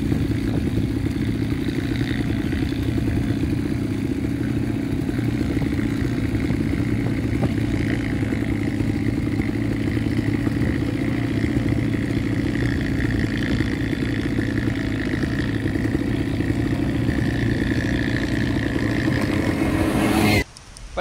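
A 2024 CFMOTO CFORCE 600 ATV engine runs steadily and loudly at close range for about twenty seconds, a constant mechanical drone with light clatter, cutting off abruptly at the end.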